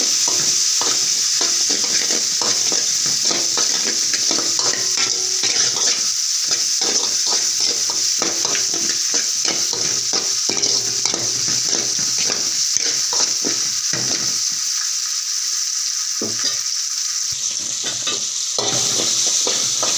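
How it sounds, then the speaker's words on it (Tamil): Steady sizzling of tomatoes and onions with turmeric sautéing in a hot pan, with frequent scraping and stirring strokes, loud and close, no voices. "நல்லா வதக்கி எடுத்துக்கலாம்."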